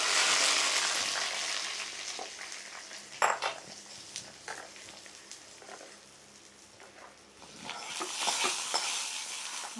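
Oil sizzling as coconut chutney is tempered with asafoetida, a bright hiss that swells at the start and end, with a few metallic clinks of a pan and spoon in between.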